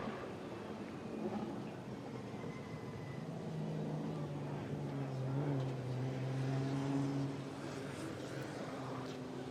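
Formula Drift cars take sight laps at Irwindale, engines droning and rising in pitch at a distance, a faint continuous roar of passing vehicles with a commentator faintly audible.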